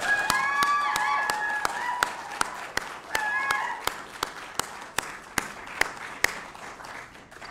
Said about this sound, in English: Let's get things started with a round of applause.